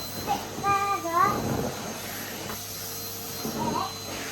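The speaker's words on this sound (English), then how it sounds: "I have to vacuum it forward." A Henry Hoover vacuum cleaner drones steadily in a home, its motor hum running under a voice and intermittent chatter.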